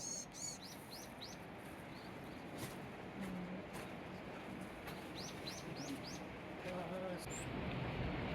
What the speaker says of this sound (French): nourrir les mésanges